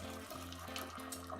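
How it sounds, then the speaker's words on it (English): Water running and splashing as a colander of cooked spaghetti is lifted from the pan, a faint continuous trickle and drain with a low hum in the background. "all you have to do is simply lift up the colander,"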